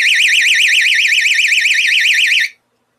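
A personal self-defense alarm shrieks at a loud, steady level with a rapidly warbling high-pitched siren tone, then cuts off abruptly near the end, leaving silence.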